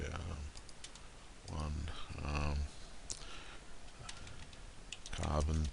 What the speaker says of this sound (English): I can also type things in.